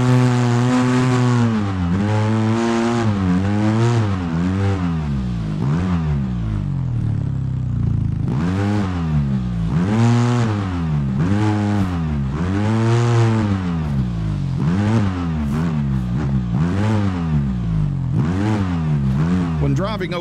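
An off-road vehicle's engine in the Overpass video game drives onto a seesaw, revving up and down in repeated swelling waves, loud and close, while a voice talks over it.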